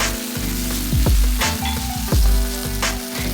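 Bean paste and chili powder fry with onion, garlic and ginger in a hot pan, sizzling loudly up close while a utensil scrapes and stirs in several quick strokes.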